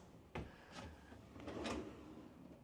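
A hotel room drawer slides open and shut, with a sharp wooden knock followed by a few softer sliding thuds and rattles close by in a quiet room.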